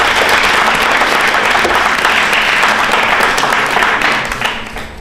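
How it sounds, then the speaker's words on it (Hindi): Loud, sustained applause from a quiz show audience at a state-round election quiz in Rajasthan, dense clapping filling the whole stretch before easing slightly at the very end, with no talk over it. "तालियां बजाइए जोरदार तरीके से आप।"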